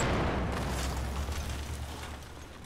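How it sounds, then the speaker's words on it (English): A grenade explosion in the Battlefield 4 game gives a loud, broad rumbling blast that fades slowly over a few seconds, with no voices. "Oh, grenade!"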